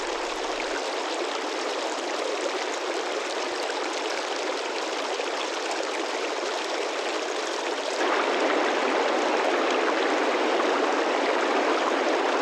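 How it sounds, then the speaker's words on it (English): Wild river fed by snow meltwater in the Tian Shan mountains in May, a constant dense rushing of water that swells louder in the final seconds. "meltwaters feed a wild river"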